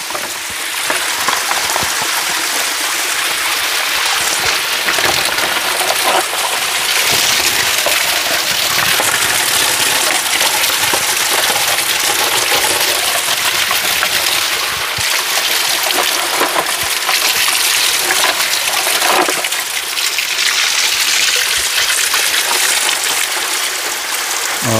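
Steady, loud rushing of water pouring from a homemade DIY pipe line feeding a house in a forest, a continuous broadband splash with no pauses.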